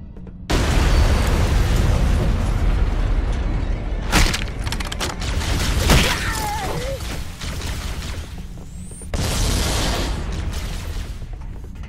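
Explosions as Covenant forces destroy life pods in Halo: Combat Evolved, a sustained roar of blasts and bursts with sharp impacts and a fresh eruption near the end, loud and continuous throughout.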